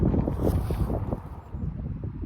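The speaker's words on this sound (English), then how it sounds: "The wind's picking up now." Gusty wind buffets the microphone at a wild camping spot in Scotland, a low, rumbling roar that surges and eases in uneven waves with no talking.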